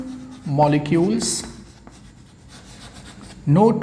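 Pen or marker scratches briefly on a board or page while a note is written during a chemistry lesson, a short rasping stroke between spoken phrases from a teacher nearby.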